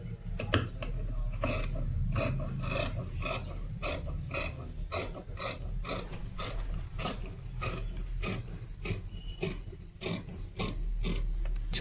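Tailoring scissors snip through blouse fabric in a steady series of crisp, regular cuts, each a short crunchy slice, heard close up with no talk over them.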